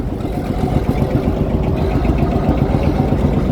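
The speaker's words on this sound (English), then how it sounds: "one of our large tractors, a lovely Duke for DK4B of 1974" A 1974 Duke DK4B tractor engine runs steadily in a vintage tractor parade at the Weeting steam rally, a continuous, fairly loud low rumble with a slight idling throb and no voices.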